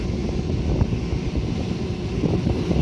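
High winds gusting outdoors around an open Carrier rooftop package heating unit, a steady broadband roar with low rumbling buffets that hold throughout.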